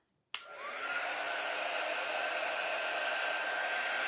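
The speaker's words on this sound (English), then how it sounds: "This is one thing I love about this quick dry tool" A quick dry heat tool blows hot air steadily onto a sign transfer, switching on with a sudden start and then holding a loud, even whoosh with a faint whine throughout, with no talking.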